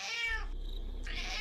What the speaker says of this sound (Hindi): 2 सर वाली काली बिल्ली जोर जोर से चिल्लाने लगी